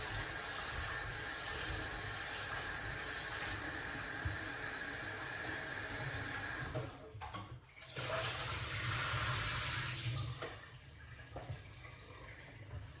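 Tap water pours steadily into a sink while food is rinsed, a close, continuous splashing rush that dips briefly midway as the flow is interrupted, then carries on.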